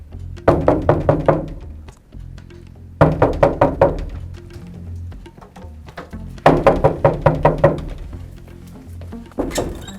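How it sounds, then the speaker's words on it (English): Loud knocking on a door in three hard bursts of about five or six rapid blows each, separated by short gaps, close and forceful, with a fainter tap near the end and no talking. "why you knocking down my door?"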